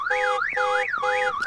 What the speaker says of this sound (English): That's how you deal with car alarms.